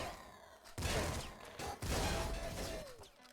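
Rapid gunfire from a Bouncer SMG in the video game Nuclear Throne comes in several loud bursts of dense shots, with short pauses between them, over busy game effects and a faint sweeping electronic tone.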